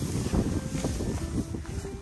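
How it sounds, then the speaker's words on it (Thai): A strong, cold wind blows across an open cattle farm in northern Thailand at midday. It makes a loud, continuous rumbling buffet on the microphone that swells and eases slightly, with no voices. "ลมแรงมากครับเย็นมากๆ"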